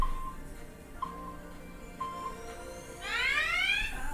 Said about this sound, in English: So I'm gonna start the timer.